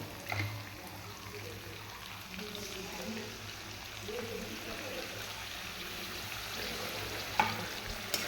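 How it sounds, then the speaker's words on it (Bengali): Sour yogurt being stirred into fried masala paste for a paneer and pointed gourd curry, a soft steady scraping and faint sizzle at close range with no talk. "টক দইটা দিয়ে ভালো করে নাড়াতে হবে"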